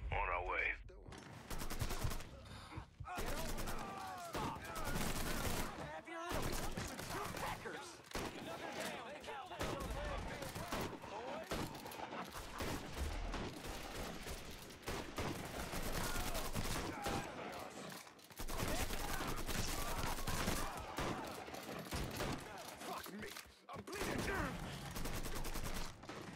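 Gunfire in the video game Mafia III, with dense bursts of automatic and single shots that are loud and near, coming in rapid volleys with short lulls over roughly half a minute, and voices speaking now and then.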